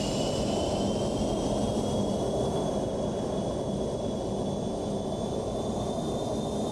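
An MD-83 airliner's thrust reversers on landing in a flight simulator: a steady, loud, broadband engine roar with a high whine running through it, continuous and unchanging throughout.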